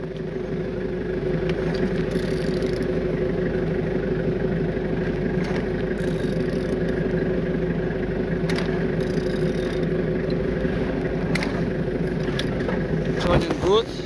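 A running engine, registration FJ60JYN, turns over at a steady even drone for the whole stretch, fairly loud and unbroken, with a small burst near the end.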